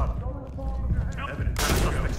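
Loud, dense crackle of gunfire and blasts in the tactical shooter Ready or Not during a nightclub raid, with a sudden sharp burst near the end, and a voice heard faintly underneath.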